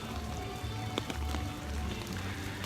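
Rain falls steadily on the Magic Kingdom at Jungle Cruise, a constant soft patter with a few sharper drips close by and a low background rumble.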